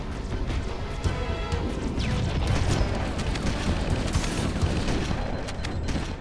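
In Halo: Combat Evolved, grenades blast apart Flood enemies in a dense, continuous stretch of crashing explosions and debris. The noise is loud and layered, with overlapping bursts running steadily for several seconds.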